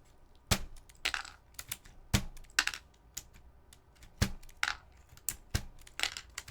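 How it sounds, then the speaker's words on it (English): Keycaps being pried off a Topre keyboard, a scattered run of sharp plastic clicks and snaps at irregular intervals, close and fairly quiet with no talking. "I keep forgetting to take off the keycaps in advance"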